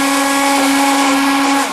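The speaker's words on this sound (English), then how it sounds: "I love these hand blenders because it gives it this nice creamy consistency." A hand blender whirs loudly and continuously while blending homemade salad dressing, a steady motor hum with a strong tonal whine that drops in pitch as it winds down at the end.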